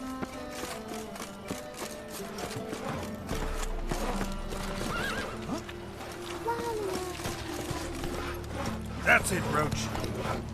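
Roach, Geralt's horse in The Witcher 3, clip-clopping steadily at speed with a brief whinny, set against game music and ambience while someone speaks.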